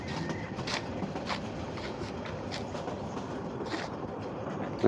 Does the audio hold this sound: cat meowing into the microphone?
no